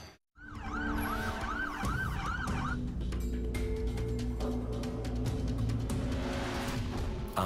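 Loud ambulance siren wailing in a rising and falling pattern over heavy vehicle rumble, close by and continuous, with the wail dropping out partway while engine and traffic noise carry on.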